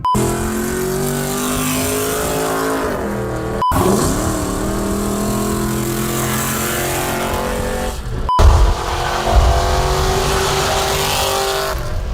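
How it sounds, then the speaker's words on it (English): Steady car engine noise from road traffic passing near a farm in Florida, a continuous drone with rising and falling engine pitch as vehicles go by, a few louder swells along the way. "The amount of traffic."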